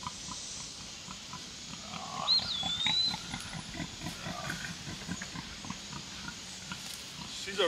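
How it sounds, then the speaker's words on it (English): A big two-year-old pig on a farm grunts in a steady, low, rhythmic series close by, with a brief high squeal partway through. "She's our biggest pig."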